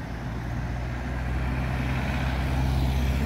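Steady traffic on a busy English street beside a roundabout, with a continuous low rumble of passing cars, buses and trucks close by, loud and unbroken.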